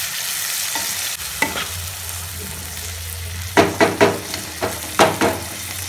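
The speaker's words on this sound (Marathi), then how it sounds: "हे आपली हरभऱ्याची डाळ आणि हा मसाला सर्व मिक्स करून घेऊया." Soaked chana dal and masala frying in a pan with a constant hiss, then a run of five or six rhythmic spoon scrapes and stirs near the end, close and fairly loud, no talking.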